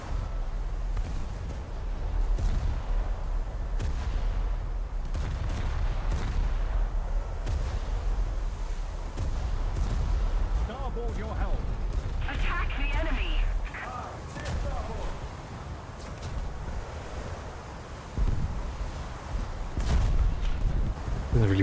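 Heavy naval guns of the battleship HMS Barham boom in a video game battle, deep rumbling blasts rolling under continuous wind-like noise, with someone talking over them throughout.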